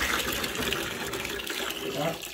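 Water runs steadily from a tap in a chateau bathroom under renovation, a close, even gush with faint voices mixed in.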